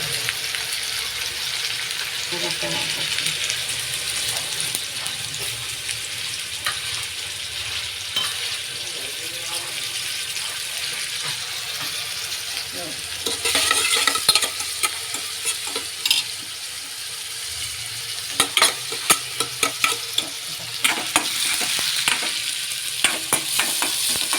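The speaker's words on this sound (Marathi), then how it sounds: "तेल टाकलं, मोहरी टाकली, जिरं टाकलं, नंतर कांदा टाकला, नंतर कांदा थोडा होऊन नंतर टाकलं टमाटर" Onion and tomato frying in oil with mustard seeds and cumin: a steady sizzle runs throughout, with bursts of spattering and repeated scraping stirs that grow busier toward the end, no talking.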